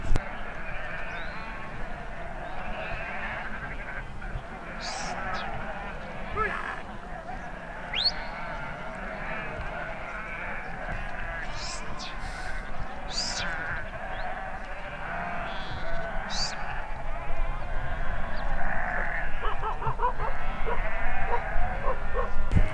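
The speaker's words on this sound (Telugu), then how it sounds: "కింద గొర్రెలు చూడండి." Sheep bleat from a flock below a high mountain trail near a lake on a Kashmir trek, repeated calls rising over steady wind and outdoor ambience, with some higher cries scattered through the whole stretch.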